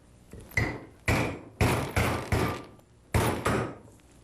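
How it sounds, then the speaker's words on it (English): A big old nail is driven through the middle of a metal drink can outdoors, heard as six sharp hammer-like knocks in uneven pairs, close and fairly loud, each with a brief ringing decay. "I'm going to use this great old big nail and poke a hole right in the middle of the can"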